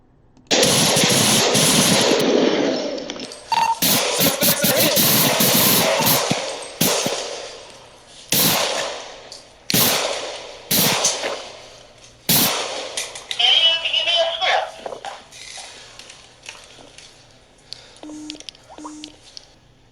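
Gunfire in a police shootout during an armed robbery, loud sharp cracks in an irregular series, some close together, over a noisy rushing background that fades into quieter scuffling near the end.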